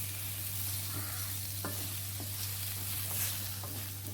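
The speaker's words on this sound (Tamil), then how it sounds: "இந்த மசாலாவோட நம்ம கருவாட்டை நல்லா வதக்கி விடுங்க." Dried anchovies are sautéed with masala in a pan over a medium flame, making a soft, steady sizzle with several light scraping stirs scattered throughout.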